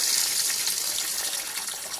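Water gushing from an opened outdoor garden tap purge onto the ground, a steady hissing splatter that stays loud and close without a break.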